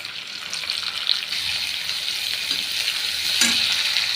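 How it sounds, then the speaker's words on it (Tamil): Green chillies sizzle and crackle loudly in hot oil, a constant bright frying hiss with occasional pops and stirring. "எண்ணெய் காஞ்சதுமே பச்சை மிளகாவை அதில் போட்டணும்"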